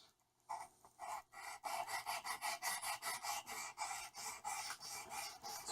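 A spokeshave blade is rubbed back and forth on a 700 grit sharpening stone, giving a steady run of close, rhythmic rasping strokes, about a dozen in quick succession after a brief quiet start.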